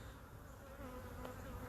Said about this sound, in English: I got a bee trying to get in my mouth